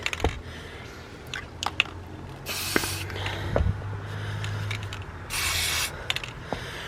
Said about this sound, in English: just spray paint in water. Shake it up. Spray.